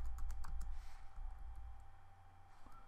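Quick computer keyboard typing at a desk, a burst of close, crisp key clicks that thins out into a few scattered taps over a steady low hum.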